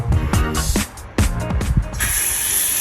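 A swivel faucet head is screwed onto a tap, making a series of sharp ratcheting clicks and plastic creaks up close, followed by a soft hiss of running water.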